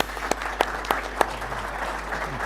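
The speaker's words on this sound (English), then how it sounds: "I want to kindly ask you to applaud our panel for their" Applause from an audience at a panel discussion on international law, appearing as scattered separate claps over a steady low hum, sparse and fairly distant rather than a full ovation.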